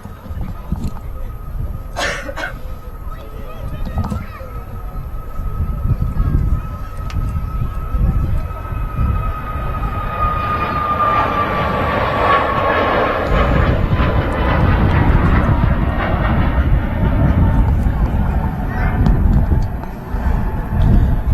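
A Qatar Airways airliner, a 777, flying near Manchester Airport, a jet roar that swells and holds loud for many seconds, outdoors with some wind and background noise.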